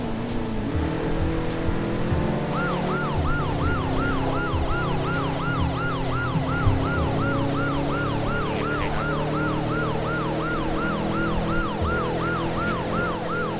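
A wailing police siren from Test Drive Unlimited 2 cycles steadily up and down, loud and continuous over a busy rumble of engines and traffic, with no talking.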